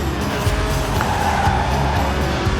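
A Lotus Elise in the Forza Horizon video game slides with loud, steady tire squeal over a continuous engine roar, close and sustained.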